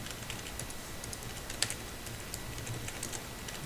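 Rapid, irregular clicking of a computer keyboard as someone types a simple C++ program, close and fairly quiet with small pauses between bursts.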